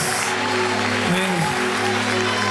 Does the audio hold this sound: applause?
yes